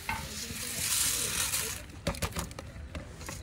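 Rice, lentils and dry spices sizzle and fry in a big pot over an outdoor night fire, with steady loud frying first, then a run of sharp scraping stirs near the end, under faint background talk.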